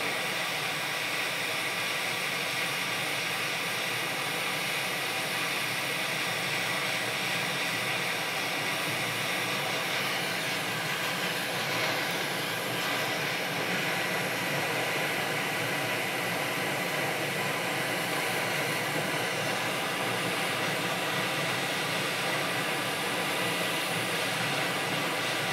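Steady broadband hot-air rush from a rework gun heating a PlayStation circuit board to free its HDMI port, a continuous even hiss that holds without pause and no talking.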